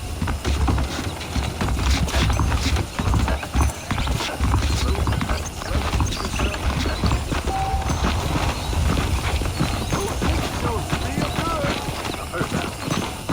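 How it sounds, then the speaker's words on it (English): Continuous rhythmic clip-clop of horse hooves in the video game Red Dead Redemption, close and prominent, with ambient rustle throughout and a faint whinny at times. "The horses are saddled up over here."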